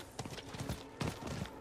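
A horse's hooves clip-clop in a steady, quick rhythm while riding in Diablo 4, faint and even with no talking.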